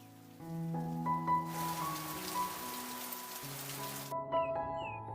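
Steady heavy rain with a dense broadband hiss, joined by soft tonal hums and notes running underneath for the whole stretch.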